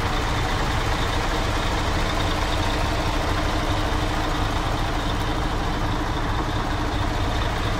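A manual-clutch truck parked in Riyadh idles with a steady, loud engine rumble close by, unchanging and alone with no talking.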